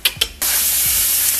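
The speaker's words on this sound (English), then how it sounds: "just listen to that baby sizzle" Shallots drop into a hot pan and burst into a loud, steady sizzle, preceded by a couple of quick clinks and small thuds.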